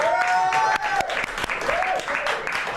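Applause greets Sascha Grant as he is introduced on the show, a short burst of clapping with sharp hand hits standing out, mixed with music carrying a tonal melody and voices talking over it.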